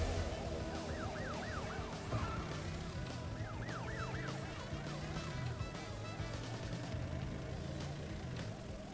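A police car siren in the video game Crash Bandicoot Warped wails in repeated rising-and-falling sweeps over a constant dense engine roar and game music, loud and continuous throughout.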